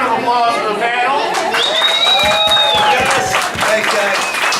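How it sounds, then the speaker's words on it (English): Audience applause for a panel at a video game expo, sustained clapping from a crowd with cheering voices mixed in. "Give a round of applause for the panel."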